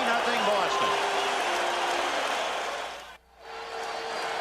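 Baseball stadium crowd at the 1986 World Series Game 7 between the Red Sox and Mets, roaring and cheering in a steady dense wash that briefly dips into near-silence before surging back.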